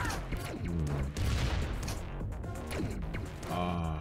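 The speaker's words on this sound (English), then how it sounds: "That is one fast laser." Rapid laser fire and impacts from the video game Environmental Station Alpha, a dense, continuous burst of zapping shots and crashes under loud game music and effects.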